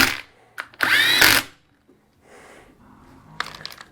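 A power tool tightens bolts on a Massimo engine bottom end in short bursts, one long whirring run between brief spins, then quiet clicks and light metal handling close by.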